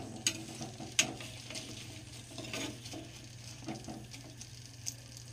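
Gujiya fries in oil with a faint, steady low sizzle, broken by a few soft clicks and taps from a utensil, quiet and without talking.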